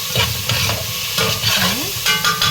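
Garlic and pepper paste frying with onions in a pan, a loud, dense sizzle broken by repeated stirring scrapes close by, with a faint tonal squeak and no speech.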